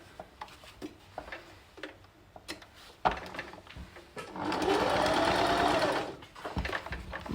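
A sewing machine stitches quilt block pieces for a 9 patch block in a long steady run of several seconds, preceded by scattered handling clicks and fabric shuffling; no talking.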